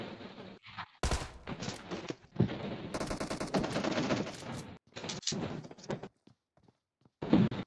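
Bursts of automatic gunfire from the video game PUBG, loud rapid volleys in several runs separated by short pauses, with a final burst near the end.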